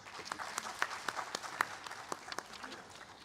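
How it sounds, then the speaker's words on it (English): Scattered applause from a small audience at a mushroom summit in India, welcoming the CEO of Grow Diesel Ventures; individual claps stand out as distinct sharp hits, fairly faint and sparse rather than a dense roar. "please give Mr. Atul Saxena, the CEO at Grow Diesel Ventures, a huge round of applause"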